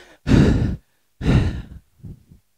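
A person imitates a startled gasp and panting from shock: two loud, breathy exhalations, then a softer, choppy panting burst, with no words spoken.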